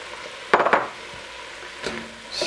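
Tomatoes being stirred into a sizzling pot of ribollita with wilted spinach: a steady frying hiss, broken by a cluster of scraping stir strokes and then one more scrape, with no talking.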